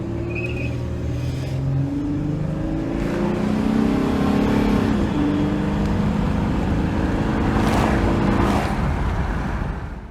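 A car with an aftermarket intake accelerates hard through the gears, its engine note rising in long pulls with a whistling intake over a loud, sustained roar.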